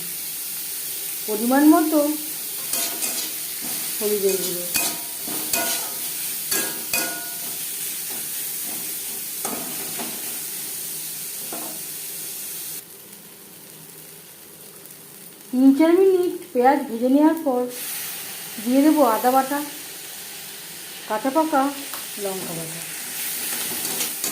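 Chopped onions fry in a pan for a fish oil fry, a constant sizzle and hiss running underneath while a person talks intermittently over the cooking.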